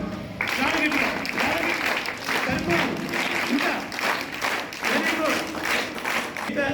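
A gathered audience claps for a birthday greeting, a dense, fairly loud round of applause that keeps going for several seconds with crowd noise mixed in.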